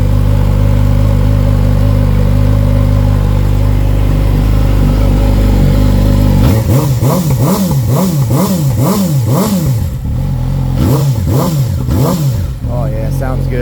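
A 2019 Yamaha YZF-R6 with a TOCE exhaust idles loudly, then is blipped repeatedly into sharp, rising-and-falling revs in a steady rhythm, recorded close and alone without talk.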